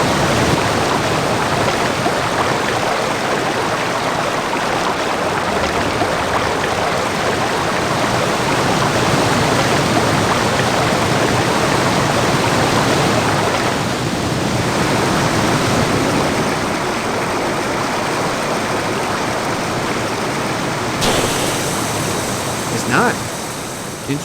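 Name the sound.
river water flowing in Indiana Jones and the Infernal Machine video game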